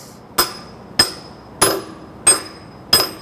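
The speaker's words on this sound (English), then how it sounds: "Once I hit actual bottomed out, you can hear the difference in the hammer." Five evenly spaced, sharp metallic hammer strikes drive a wheel seal into a semi truck hub until it bottoms out, each blow ringing briefly and loud and close with no talk.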